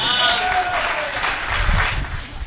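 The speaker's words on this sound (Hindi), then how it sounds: "ताली बजानी पड़ेगी" Audience applause at a comedy poetry gathering, a dense, loud wash of clapping lasting a couple of seconds, with a voice speaking over the start.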